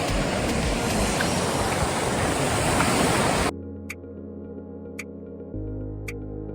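Loud, continuous rushing of sea waves washing onto the beach at Ganpatipule, cutting off abruptly into a much quieter hum with a few faint ticks.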